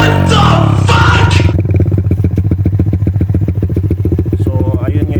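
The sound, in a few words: Suzuki Raider 150 Fi motorcycle engine revving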